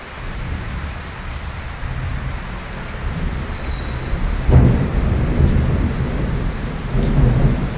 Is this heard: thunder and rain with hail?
yes